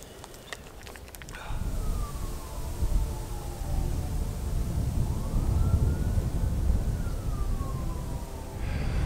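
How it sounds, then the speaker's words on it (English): A distant fire truck or ambulance siren wails slowly up and down over a steady rumble of wind and outdoor trail noise, with no talking. "I've been hearing sirens, sounds like fire trucks, ambulance"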